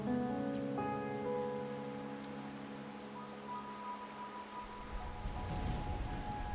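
Rain with a low thunder rumble in the video game Strinova, steady wash of rainfall under sustained tonal music, with a heavier rumbling swell near the end.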